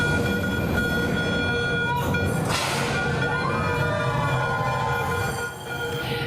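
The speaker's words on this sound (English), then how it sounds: "The new Mark V SkyTrain model officially rolled into service on the Expo line" A new Mark V SkyTrain running on Vancouver's Expo line: a steady rumble of wheels on rail with high metallic squeals and whines rising and falling, close and loud, with no voices.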